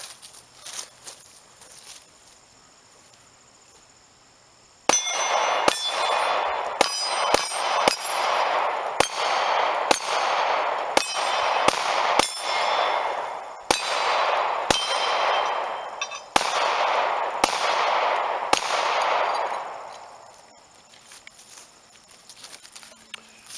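A Grand Power Q100 pistol fires at a shooting range in a string of about a dozen sharp, loud reports spaced irregularly over fifteen seconds, each ringing briefly before the next, with quieter ambience before and after.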